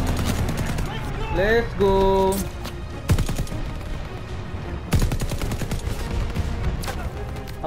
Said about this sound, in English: Proper machine gun